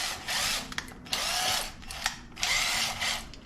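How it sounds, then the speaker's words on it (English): A power drill drives a thread cleaner in and out of a threaded hole on a Harley-Davidson part, whining in three sustained bursts with short clicks and pauses between them, close and fairly loud. "You're going to take your drill and just going to run it in"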